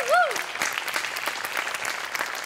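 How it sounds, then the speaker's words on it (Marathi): A studio audience at a Marathi comedy show claps for a performer with sustained, lively applause; a short rising-and-falling whistle-like tone rings out at the very start. "गोस्वामींसाठी एकदा टाळ्या वाजवा"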